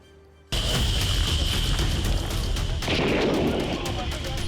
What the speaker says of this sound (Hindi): लोगों ने पटाखे जलाकर खुशी दिखाई